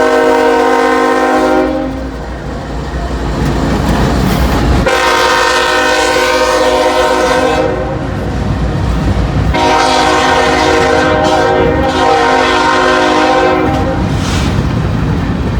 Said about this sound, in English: This is the gondola car, or gondola train.